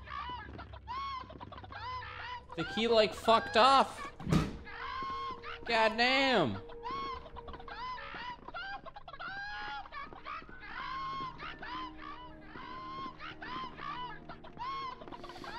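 Chicken clucking inside the horror game Hand Simulator: Horror, repeated short squawky calls running throughout, sometimes louder and agitated, mixed under people talking.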